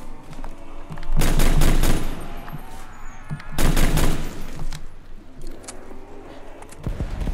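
Rapid bursts of gunfire ring out in the Call of Duty Zombies map Nacht der Untoten, two loud sustained volleys separated by quieter game ambience and a few softer shots.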